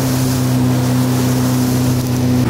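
A motorboat drones steadily across a lake in Rwanda, its engine hum constant and close, with water and wind noise rushing over it throughout and no talking.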